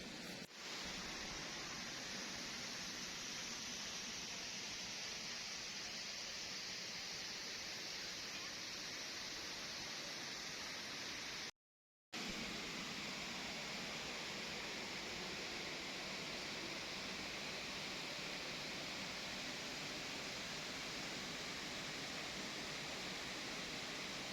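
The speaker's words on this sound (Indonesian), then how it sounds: "aliran sungai yang gemericik, tenang, segar" Putri Nglirip waterfall in Indonesia pours into a gurgling river, a steady broadband rush of falling water that is close and continuous, broken only by a brief dropout midway.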